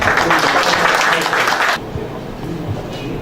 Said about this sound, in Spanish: Recibimos con un aplauso al ingeniero Villarán.